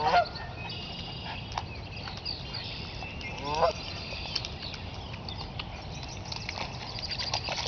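A few goose honks rise briefly over steady outdoor background noise, one clearer burst in the middle, with a voice talking softly throughout.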